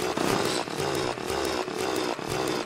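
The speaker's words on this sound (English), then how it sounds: "I'm getting the drill, and there we go. We have a drill." Loud, continuous buzzing whine of the drill in Terraria, a harsh grinding tone that pulses in regular surges like a chainsaw, heard alone without speech.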